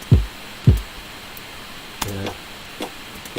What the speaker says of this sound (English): there's a subby kick, sounds like this.